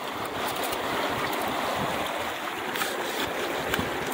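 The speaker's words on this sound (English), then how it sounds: "we'll call it one full bucket through the sluice." Water rushes continuously through a gold sluice box set in a Colorado stream near Fairplay, a steady close splashing wash with no talking.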